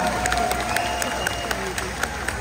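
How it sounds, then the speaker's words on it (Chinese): A crowd at a political rally in New Taipei applauds a legislator, with brief clapping and cheering kept under steady crowd noise, some faint voices, and a few sharp peaks from nearby hands. "我们帮罗明才委员掌声鼓励好不好"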